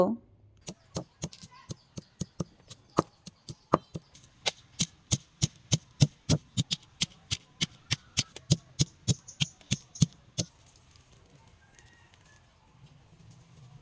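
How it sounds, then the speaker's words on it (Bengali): Onion and garlic are crushed on a stone grinding slab while cooking on a village winter morning, a long run of evenly spaced, sharp, close knocks that stops abruptly before the end. "এখন পাটায় কিছু পেঁয়াজ রসুন থেতু করে নেব"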